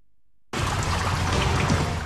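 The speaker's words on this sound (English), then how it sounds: "Which has running water." Running water in a bathroom inside the remote-control helicopter game Puchi Copter 2: after a brief silence, a steady, loud, even rush of water starts abruptly and keeps flowing without pause.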